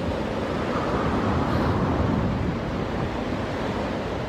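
Strong ocean surf pounds a beach in Portland Parish, Jamaica, a loud, continuous roar of breaking waves swelling slightly midway, with wind buffeting the microphone.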